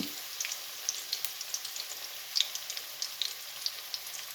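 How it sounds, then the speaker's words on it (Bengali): Onion frying lightly in a pan, heard alone as a steady close sizzle with small crackling pops scattered throughout. "হালকা বাদামি কালার করে ভেজে নেব"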